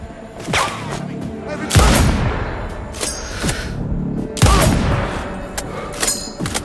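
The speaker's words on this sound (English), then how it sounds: "Just our gunshots." Loud bursts of gunfire in Sniper Ghost Warrior Contracts 2, a few heavy booming shots with rapid crackling fire in between, continuous and close.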